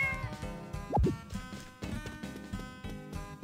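A cat meows in the farming video game Harvest Moon: Magical Melody, a short rising-and-falling cry over soft, quiet game music.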